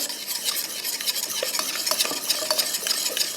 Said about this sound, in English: I'm gonna whisk 1 egg in here at a time.